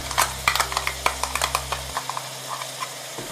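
Biryani masala is mixed by hand in a pot, giving a run of short wet slaps and squelches in a quick, uneven rhythm, with a low steady hum from a stove underneath that cuts out partway through.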